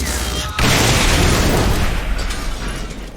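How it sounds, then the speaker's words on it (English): A loud, close explosion in the video game XCOM: Chimera Squad starts with a sharp boom and then becomes a long, dense roaring blast that slowly tails off. "It's gonna blow!"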